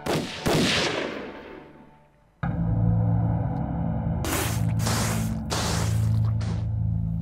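Gunfire in a Chinese anti-Japanese war drama: loud sharp bursts of rifle shots crack out, followed by a sustained roar of heavy firing with repeated explosive blasts, and no one speaks over it.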